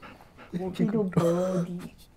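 A puppy whimpers and whines in drawn-out, high, wavering cries close by, alongside a person speaking excitedly in the room.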